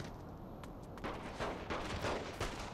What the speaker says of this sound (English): Fucking cop shooting right at me